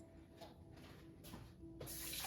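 A kitchen faucet runs steadily while hands are washed between baking steps for Sicilian S cookies, a soft splashing hiss that swells brighter and louder toward the end, with no voices.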